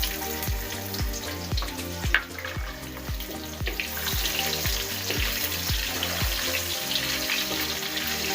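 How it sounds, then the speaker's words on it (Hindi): Cumin seeds and medium onion frying in half a cup of cooking oil for daal mash, with a steady close sizzle throughout and repeated soft knocks from stirring, with no voices. "हाफ कप कुकिंग ऑयल में जीरा डालकर इसको फ्राई करें और इसमें मीडियम साइज का प्याज ऐड करें"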